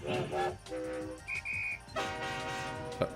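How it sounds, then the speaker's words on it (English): Several train engines in the 3D Ultra Lionel TrainTown video game sound their whistles one after another, each a short, distinct toy-like tone, some over a chugging background, in a quick sequence of separate blasts. "Every engine has its own whistle, so let's hear them!"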